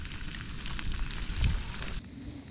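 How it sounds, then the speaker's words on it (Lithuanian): Eggs frying with bacon bits in a pan inside a tent on lagoon ice during rain, giving a steady close crackling sizzle that swells briefly, then drops quieter near the end. "Spirga kiaušinienė."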